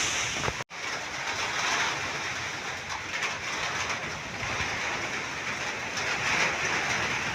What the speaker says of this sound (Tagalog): Ug kami pag hangin, nag-ulan pa gid